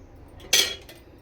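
A single bright metal clink of a spoon while measuring cooking oil, close and short, followed by a faint second tap.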